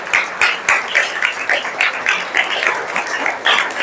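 An audience in a college hall claps in uneven bursts, a loud, close rhythmic patter of hands that pulses throughout.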